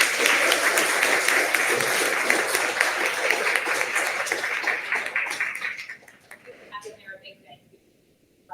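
Audience clapping at a 2023 undergraduate research awards recognition event, a dense sustained round of applause that thins out after about six seconds into scattered claps and a few spoken words.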